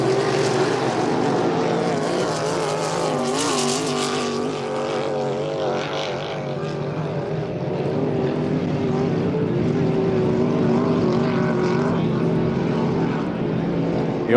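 Hydroplane racing boats roar across the water at a St-Félicien race, a loud continuous engine drone with shifting pitch as the boats speed through the course, throwing rooster tails of spray, with commentary faintly underneath.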